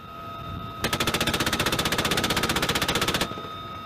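A GAU-21 .50 caliber Browning heavy machine gun fires from a helicopter in one sustained burst of rapid, evenly spaced shots lasting over two seconds, loud against a steady rotor drone.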